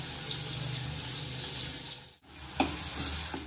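Ground masala paste sizzles and fries in hot oil in a pan for an eggplant curry, a steady close hiss that briefly cuts out, then resumes with a few soft clinks and stirs.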